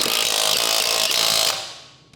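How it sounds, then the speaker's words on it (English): Lug nuts driven on with a 17mm socket on a 2006-2011 Honda Civic wheel, a loud, continuous whirring buzz of a power tool running for about a second and a half before trailing off, close, no talk. "Use a 17mm socket to install the lug nuts."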